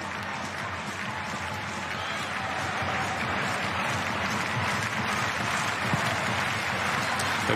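A stadium crowd at a women's international football friendly between Australia and Sweden applauds in a dense, steady wash of clapping that holds evenly throughout, heard from a distance.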